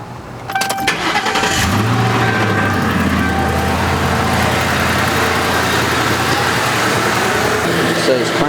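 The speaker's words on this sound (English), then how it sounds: "the crank test is to start the engine." A car engine cranks and catches during a battery tester's crank test, then settles into a steady, close idle that holds loud and even for the rest of the stretch.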